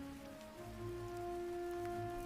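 Heavy storm rain falls steadily and softly on surfaces, a constant even patter with a faint tonal hum beneath it and no voices.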